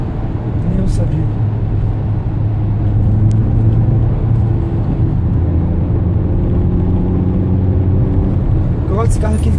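A 2015 Toyota Etios XLS drives along with a steady low engine rumble and road noise from inside the cabin, while a voice talks over it.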